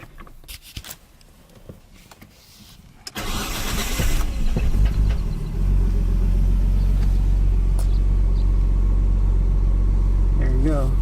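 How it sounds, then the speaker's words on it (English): A Nissan Skyline engine cranks and catches after a few quiet seconds of handling noise. It settles into a loud, steady, rumbling idle up close, and a person speaks briefly over it. "Now let's start the car."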